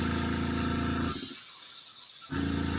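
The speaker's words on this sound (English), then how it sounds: "I'm going to give this a little practice spray here." A paint sprayer gives a short practice burst, a loud steady hiss that cuts off briefly and then starts again.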